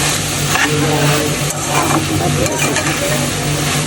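Corn set to fry in a pan at home during Ramadan iftar preparation, a steady close sizzle with stirring scrapes running throughout, a continuous hum beneath and a voice speaking over it.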